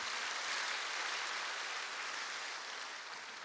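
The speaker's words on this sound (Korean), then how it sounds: "동산의 가족이 되신 분들에게 마음을 담아 박수로 환영하도록 하겠습니다" A congregation at a Sunday morning church service applauds to welcome new members, a smooth, even wash of many hands clapping together that fades slightly toward the end.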